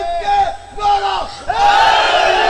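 A large gathering at a Shia religious majlis chants a slogan in unison, loud rising and falling calls with a pause in between, the voices surging together again at full volume.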